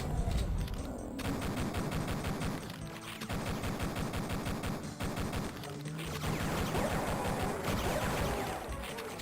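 A turret in the Duke Nukem 3D user map Gut Feelin' fires a long, dense burst of rapid gunfire that runs almost continuously, with heavy, close blasts and only brief gaps.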